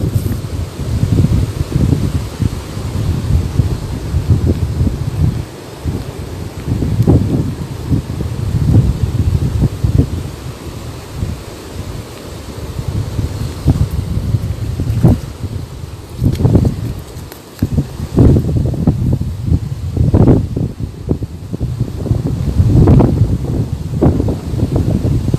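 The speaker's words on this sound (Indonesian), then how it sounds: "Dan sekarang di lokasi ombak cukup besar, angin juga berkencang sangat kuat." Strong, gusting wind at a coastline with large waves and rain buffets the microphone with low roaring rumble, rising and falling in loud surges throughout, with some rustling underneath.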